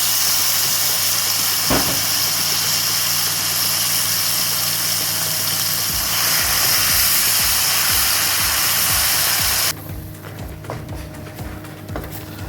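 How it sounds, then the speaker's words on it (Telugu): Spice paste with curry leaves sizzles in a hot pan while cooking Amritsari chole masala: a steady, close broadband frying hiss that runs throughout, with a few soft clinks and a slight drop in intensity near the end. "ఈ ఏదైతే మన ఈ పేస్ట్ ఫ్రై అవుతుందో"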